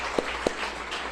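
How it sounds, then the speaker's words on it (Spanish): A congregation applauding during Shabbat service in the Beit Yaakov synagogue, a dense, steady wash of clapping lasting about a second, punctuated by two sharper, louder claps close by. "Así que un aplauso a todos"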